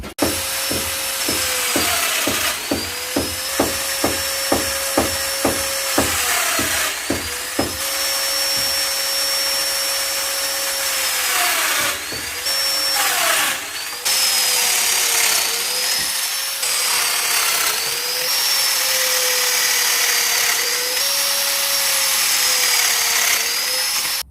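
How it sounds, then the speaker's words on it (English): Domino joiner cutting mortises into wood for fixing a bedside table top, a steady high motor whine with a rapid series of sharp plunge bursts early on, then sustained whirring with pitch dips, loud and close with no talk. "So let me get to the next stage of marking and cutting the mortises with the domino to fix the top."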